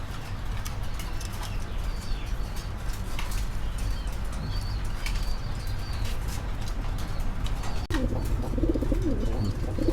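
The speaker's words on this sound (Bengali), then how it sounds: "কবুতর জোড়া হচ্ছে কাগজি কবুতর, বর্তমানে বাচ্চা আছে সাথে" Kagzi pigeons at a pigeon farm in Tangail coo in low, steady, overlapping murmurs close by, with faint wing flaps and scattered bird calls in the background and no talking.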